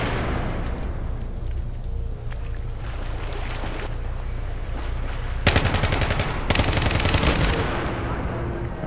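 Flashbang grenades and gunfire in the Battlefield 3 campaign, sharp bursts and rapid shots crackling over a rumbling background, with heavier volleys toward the end.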